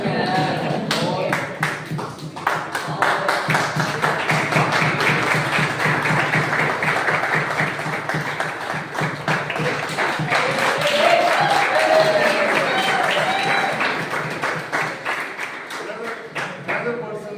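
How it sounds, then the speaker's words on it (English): A crowd claps for a helper at a hackathon gathering, with scattered uneven claps over a steady murmur of voices and room noise, loudest near the start and later blending into chatter. "So big round of applause."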